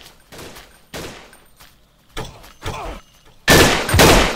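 Gunfire in the shooter game Blockade 3D, loud sharp shots in separate bursts with quiet gaps between them, ending in a long, heavy volley of rapid fire.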